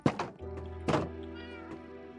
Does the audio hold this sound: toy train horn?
no